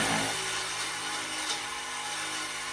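Sawzall reciprocating saw cutting through a steel exhaust downpipe on a 6.0 truck, a loud, close, continuous harsh buzzing rasp of the blade against metal.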